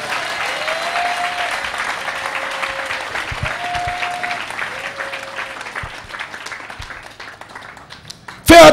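A church congregation applauds and cheers throughout a French-language worship service, dense sustained clapping with crowd voices and a held organ or keyboard tone, thinning slightly toward the end before a loud burst at the close.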